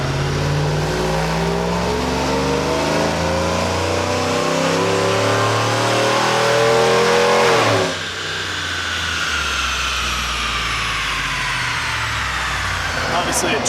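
Edelbrock 2650 supercharged GMC Sierra 1500 engine revving hard on a dyno, rising pitch climbing steadily for about eight seconds, then a sudden shift drops the revs into a rougher, lower roar that continues loud and close.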